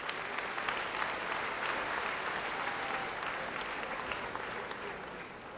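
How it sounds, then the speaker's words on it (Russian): An audience at the Novaya Volna (New Wave) festival applauds the hosts with steady, dense clapping that fills the whole stretch at an even, fairly loud level with no break. "Громче, друзья, аплодируем ведущим."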